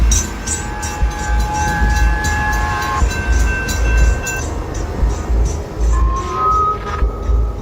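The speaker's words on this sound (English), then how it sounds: "As the train sped past," A train speeds past at very close range, a loud steady rush of wheels and wagons with rail clatter filling the whole stretch, along with a brief horn-like tone early on.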